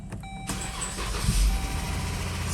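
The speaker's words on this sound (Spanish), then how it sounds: "El cliente se está quejando de que hay un ruido cuando el carro lo encienden." A 2013 Jeep Grand Cherokee with a 3.6 engine is cranked and fires up, then runs with a steady mechanical noise from the engine bay, close and alone.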